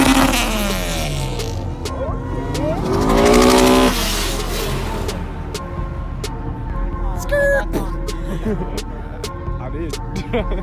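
Car engine revving at an outdoor car show, a rising and falling rumble that swells loudest around the middle, with crowd chatter and people talking over it.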